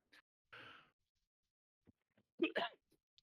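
A single short, breathy sneeze close to the microphone in an otherwise quiet room, preceded by a faint sigh and a few small mouth noises.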